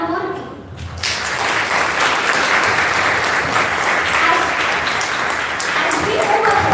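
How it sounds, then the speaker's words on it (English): An audience at a college talk-series event at NHITM breaks into sustained, loud applause to welcome an honoured guest, following brief speech at the start and dense clapping filling the room. "Please join me in extending a warm round of applause to our honorable guest, Mr. Kuruva Venkatraman Murthy."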